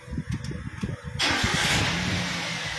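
A secondhand 2014 car starts in one quick crank: a short sputtering churn, then the engine catches and settles into a steady, fairly loud idle close by.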